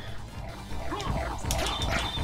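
Cerberus, the dog boss in Castlevania: Symphony of the Night, gives short yelping barks and whimpers over busy game effects and a steady low rumble.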